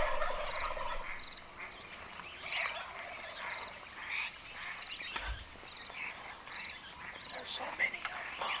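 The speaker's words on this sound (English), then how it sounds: "we'll see you at daylight with turkeys gobbling" Wild turkeys gobble at daybreak during a California youth turkey hunt, several distant gobbles breaking out at intervals over a quiet outdoor background, along with other faint birds and insects.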